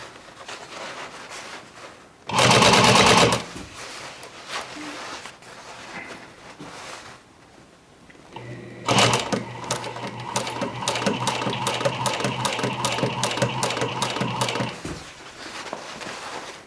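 A sewing machine runs a seam along jeans fabric, with a short loud burst early on and then a longer steady stitching run with a rhythmic mechanical chatter, over a background of handling noise.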